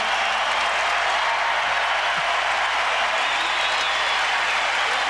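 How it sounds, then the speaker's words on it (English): A basketball arena crowd rises in a standing ovation for Donyell Marshall of the Raptors, a steady, dense wash of clapping and cheering that fills the whole stretch without a break. "And a standing O for Donyell Marshall,"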